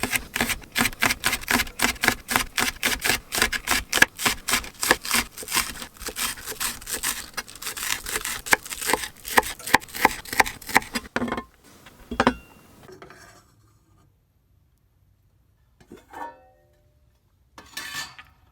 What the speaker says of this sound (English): I think I'm going to slice up a little bit of green onion too to top that off with.